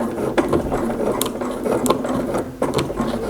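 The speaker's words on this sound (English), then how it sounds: "So I've stitched down one side, now I'm going to stitch down the other before I wrap it." A sewing machine runs steadily down the side of a scrap-fabric catch-all bag, its needle mechanism chattering in a fast, even mechanical rhythm with a few sharper clicks, close and loud throughout.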